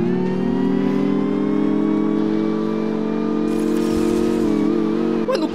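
Mercedes S400 engine in Need for Speed Mobile, an electric car giving a steady, loud synthetic droning whine that holds a constant pitch, then dips slightly near the end.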